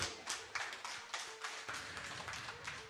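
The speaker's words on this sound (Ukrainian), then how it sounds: "дорогі друзі, оплески для них!" Wedding guests at a Ukrainian wedding applaud the newlyweds, a dense, steady patter of many hands clapping together throughout, fairly close and full, with no voices over it.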